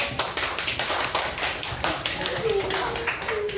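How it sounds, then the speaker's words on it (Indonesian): An elementary school class claps together in a quick, rhythmic patterned beat of sharp, close hand claps, with a voice calling out over the clapping. "Tepuk tangan untuk kelompok 1."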